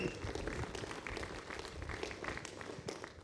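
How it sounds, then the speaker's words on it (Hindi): Crowd at a business event clapping for two brothers called to the front, a steady, fairly even patter of many hands at moderate volume from start to finish. "ये दोनों ब्रदर हैं, ये जोरदार तालियां।"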